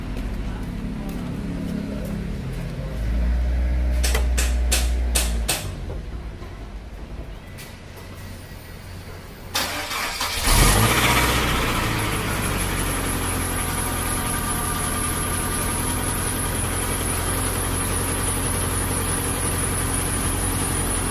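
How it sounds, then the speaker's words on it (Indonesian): A Suzuki Escudo engine cranks and catches on a cold morning start, then settles into a steady, loud idle rumble with a hiss; earlier faint clicks and background noise precede the start. "ini akan kita coba starter bagaimanakah pagi hari starternya"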